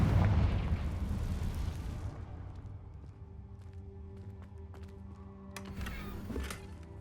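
A blasting spell explosion in Hogwarts Legacy bursts loud and rumbling at the start, then decays into a lingering rumble with scattered crackles and sharp clicks.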